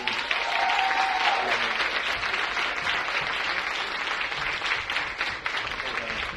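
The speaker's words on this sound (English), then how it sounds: "Give him another round of applause." A crowd at the West Side Y breaks into a loud, sustained round of applause, dense clapping filling the whole stretch, with a voice briefly rising over it near the start.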